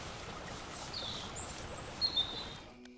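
Flowing water at the Waters of Mormon, a steady broadband rush running evenly throughout, with faint bird chirps above it and a brief tapering off at the very end.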